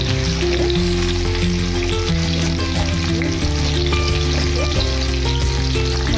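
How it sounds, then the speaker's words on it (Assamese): Onions and a bay leaf frying in hot oil, sizzling steadily and loudly up close, partly masked by a droning tonal hum, with no talking. "এতিয়া মই ইয়াতে পিঁয়াজখিনি দি দিছোঁ"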